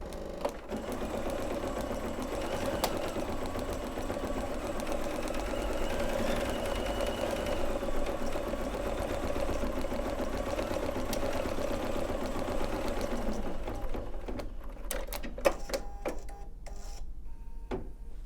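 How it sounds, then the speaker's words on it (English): An embroidery machine stitches out a placement line, a steady mechanical whir with a rapid stitching rhythm running for about thirteen seconds before stopping, followed by a few scattered clicks and taps. "I'm going to press and hold, and that's going to stitch out my placement line"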